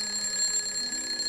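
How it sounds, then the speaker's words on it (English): A modded Minecraft alarm clock rings with a steady, continuous electronic tone, bright and unbroken, heard alone without talk. "So get this alarm clock here. If I go to sleep now"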